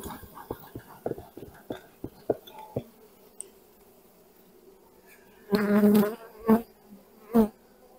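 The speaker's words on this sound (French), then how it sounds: "il y a des abeilles agacées là" Agitated honeybees at a hive whose queen is being replaced, with poor brood: light taps and faint buzzing give way to loud, close bursts of angry buzzing near the end, coming in three distinct surges.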